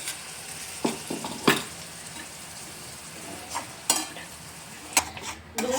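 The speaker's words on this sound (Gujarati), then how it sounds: "અહીંયા ડુંગળીની પેસ્ટ જો સતળાઈ રહી છે" Onion paste sautés in a pan, hissing softly and steadily while a spoon scrapes and stirs in sharp intermittent strokes, all up close with no talking.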